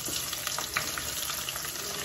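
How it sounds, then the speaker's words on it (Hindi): Cumin seeds roasting in hot oil for a matar malai paneer dish give a steady, close sizzle with light crackles and faint stirring, no talking. "जीरा हमारा भुन गया है।"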